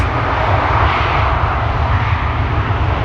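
Engines of a Boeing Dreamliner at Schiphol Airport send out a loud, close, unbroken broadband roar that holds steady throughout, with no voices.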